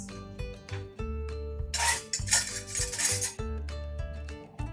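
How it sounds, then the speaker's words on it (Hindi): A knife taps and chops capsicum, onion and tomatoes steadily on a board at close range, with bursts of scraping and clinking between the cuts. "और इसके बाद हमें करने हैं हमारे वेजिटेबल्स कट"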